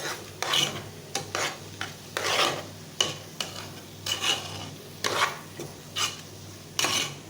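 Sliced onions are turned in a dry pan before any oil goes in, making repeated close scraping and rustling strokes with brief pauses between them, and no voices.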